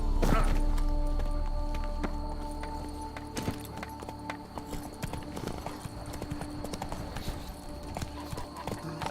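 Horse Roach's hooves pound in a fast, regular galloping clatter in the video game The Witcher 3, close and prominent over rumbling game ambience, with no voices.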